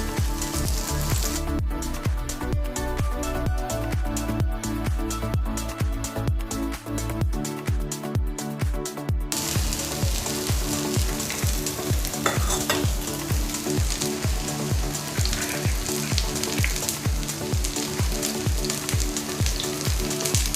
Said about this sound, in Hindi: अब हम इसे फ्राई करेंगे, हम इसे शैलो फ्राई करेंगे।